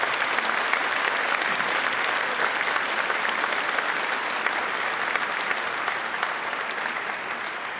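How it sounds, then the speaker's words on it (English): A large audience at a school colloquium applauds in a dense, continuous wash of clapping that holds steady for several seconds before tapering slightly at the end, loud and even, with no speech over it. "So please give her a round of applause."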